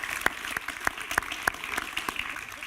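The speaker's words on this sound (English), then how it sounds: "a round of applause, everyone, for the panel." A small audience at a policy panel on multilateralism claps for the speakers, a sparse run of distinct, fairly regular hand claps over a soft room background.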